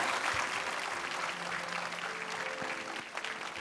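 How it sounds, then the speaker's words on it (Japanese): Audience applause at a Japanese fan event for a Korean drama, a steady wash of clapping that fills the whole stretch at moderate level, with a few faint voices mixed in. "盛大な拍手をお願いいたします"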